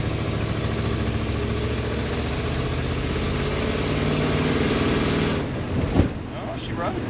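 A 1973 Chevy Nova, revived after ten years, drives with its engine running in a loud, steady rumble, then eases off near the end with a short thump and a dip in volume.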